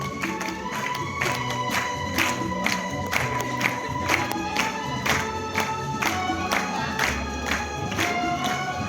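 Students and audience at a Brahma Kumaris program at an Indian school clap in unison, a dense, steady rhythmic applause throughout, with crowd voices mixed in.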